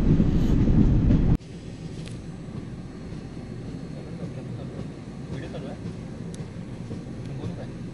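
A passenger train runs steadily through Jharkhand, heard from onboard as a continuous low rumble and rattle of the carriage. A louder burst comes at the start, then the steady rolling noise carries on.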